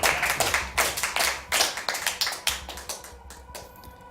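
An esports audience at a WCS America StarCraft 2 match claps and cheers for a player, with bursts of quick, close clapping rising and falling in uneven waves before fading out.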